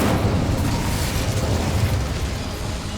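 A fiery Incendio spell is cast in Hogwarts Legacy inside a small mine, giving a loud, dense roaring burst of flame that rumbles steadily without pause for about three seconds.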